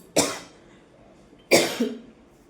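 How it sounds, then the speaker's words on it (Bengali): Two separate harsh coughs from one nearby person, about a second and a half apart, with quiet in between. "খুব কাশি হচ্ছে।"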